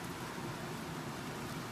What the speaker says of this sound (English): It's beginning to rain now after this heat wave.